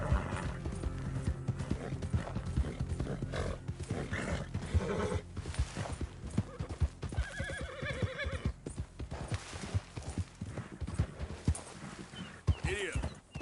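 Horse hooves clip-clop steadily at close range while the horse whinnies at times, with people talking and urging it on throughout.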